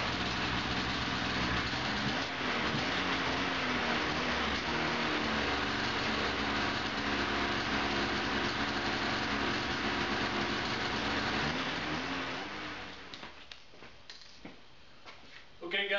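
A snowmobile engine fitted with a Holzman TempaFlow runs on a stand, holding a loud, steady drone for about twelve seconds before winding down into uneven sputtering.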